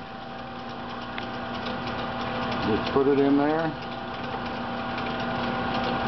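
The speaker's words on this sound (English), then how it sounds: "The drill is turning the opposite direction of the mill, of the lathe." A drill and lathe run with a steady mechanical hum and whine, the drill turning opposite to the lathe while machining a part for an RC jet B-1 bomber model, while a person speaks briefly nearby.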